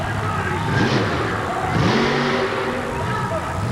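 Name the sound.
supercharged alcohol-burning truck engine revving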